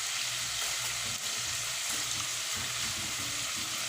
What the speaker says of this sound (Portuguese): Aqui tá a costelinha fritando ainda.